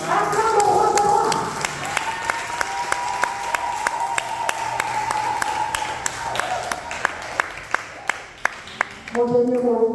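A church congregation gives loud, sustained applause, with sharp rhythmic claps cutting through a crowd roar and a sung or shouted tone. The clapping thins toward the end, and a voice comes in at the close.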